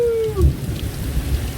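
Rain falls steadily in the Amazon, a dense close hiss with low rumbling, heard alone for a brief moment.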